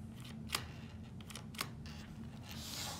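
A TownSteel e-Genius electronic door lock's latch bolt is pressed and springs back out, giving a couple of short, close metallic clicks at about half a second and one and a half seconds over a low steady hum.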